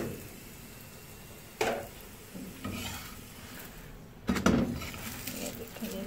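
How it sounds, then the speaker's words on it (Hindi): A paratha frying in ghee on a griddle over a slow flame gives off a steady soft sizzle, broken twice by louder scraping stirs against the pan. "अब मैं इसके ऊपर मज़ीद घी लगाने लगी हूँ, और बिल्कुल स्लो आंच है।"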